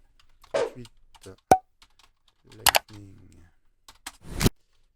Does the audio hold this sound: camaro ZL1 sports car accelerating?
no